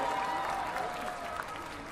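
Sustained applause from an audience at a 2017 youth concert talk event in honour of Jo In-sung: dense, steady clapping that fills the whole moment and eases off slightly toward the end.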